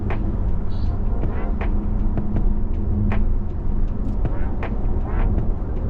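An Audi Q5 Sportback SUV cruises on the road on an economy run, with a steady low road and engine rumble filling the cabin and a few faint clicks and knocks on top.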